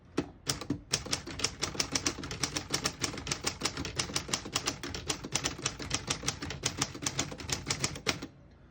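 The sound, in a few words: vintage portable typewriter typing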